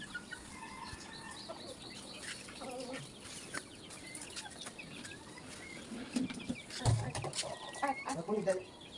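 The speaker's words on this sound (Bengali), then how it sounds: "এই দেখেন মুরগি, আপুর হাতের মুরগি, মুরগি পালে আপু" Free-ranging hens and young chickens cluck in a home yard, soft scattered clucks and calls under faint background noise and nearby talk, louder toward the end.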